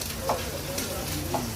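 Small puti fish fry in hot oil, giving a soft, steady sizzle with a few brief stirring or turning sounds on top, moderately quiet and close by, with no speech.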